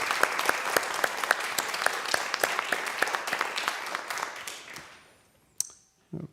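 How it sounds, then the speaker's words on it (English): Applause at a church annual general meeting, steady clapping from a small gathering with a few sharp, distinct claps standing out. It fades out after about five seconds, followed by a couple of brief knocks. "I would like us to celebrate her by offering some applause."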